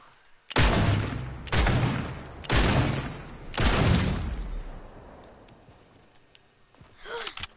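Gunfire in a PS4 shooter: four loud, heavy bursts land about a second apart, each decaying quickly, followed by a quieter stretch with faint game noise.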